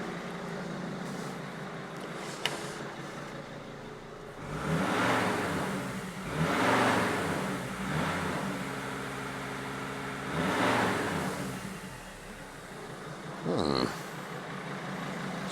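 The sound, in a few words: Mercedes Sprinter CDI turbo diesel engine revving with boost leak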